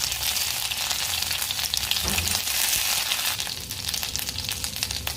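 Ground ginger, green chili and cumin tipped into hot oil with popped mustard seeds: a dense, crackling sizzle close up, with a brief low thud as the paste goes in, the frying continuing loud and steady without speech.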